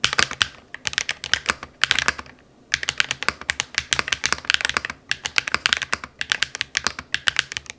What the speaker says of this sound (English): let's just do a little typing session here